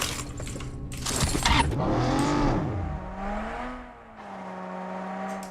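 A Lotus supercar drives in PUBG, its smooth whirring tone climbing and falling at moderate level, with no distinct engine roar.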